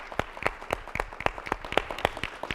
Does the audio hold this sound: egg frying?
no